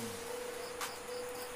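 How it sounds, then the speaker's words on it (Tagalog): Crickets chirp steadily outdoors at a farm in Leyte, a continuous high-pitched insect trill mixed with a constant tonal hum and no voices. "masarap pakinggan yung mga ingay ng mga kuliglig"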